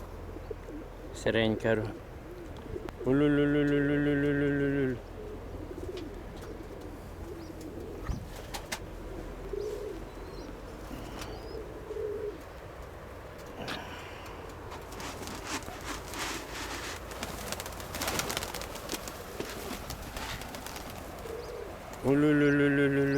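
Domestic pigeons coo and flap their wings outdoors, with low cooing and scattered flutters. People talk now and then over a steady background hum.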